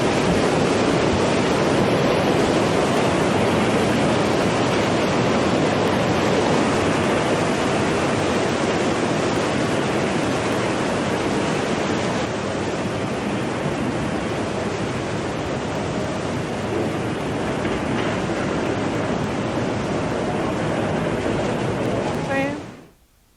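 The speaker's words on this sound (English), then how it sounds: "Remember the tsunami? Remember that? When the water came in? That one video that happened over Japan?" Tsunami water rushing in over Japan, a dense, loud roaring wash of water and debris, continuous and unbroken for over twenty seconds before cutting off abruptly.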